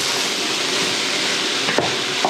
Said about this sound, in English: Turn up the heat and stir fry it.